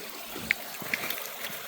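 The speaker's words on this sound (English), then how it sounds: "The good old spring water." Spring water trickles softly at the edge of a stream in Norfolk, a quiet, close, continuous gurgle with a couple of small bright drips.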